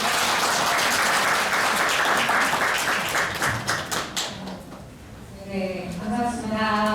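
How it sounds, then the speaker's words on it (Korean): An audience claps at a March 1st Independence Movement Day ceremony, dense sustained applause that thins into scattered claps and fades as a voice begins speaking at the end. "큰 박수 부탁드립니다."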